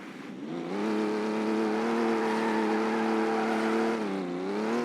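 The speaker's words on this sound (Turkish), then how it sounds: "İlk bir drift testi yapalım drift" A car's engine revs in Car Simulator 2 while it drifts, a steady, loud droning tone that swells and wavers, dipping briefly near the end before climbing again, with no talking.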